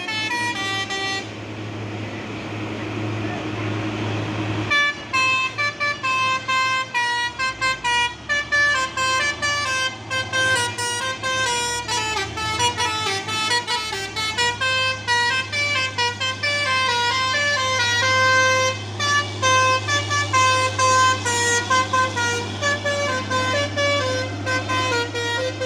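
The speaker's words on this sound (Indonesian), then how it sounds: "tiba-tiba truk Hino Jember membunyikan telolet" A Hino truck from Jember plays a telolet horn, a loud, sustained melodic multi-tone honking that runs continuously and shifts through repeated musical phrases over a low engine drone.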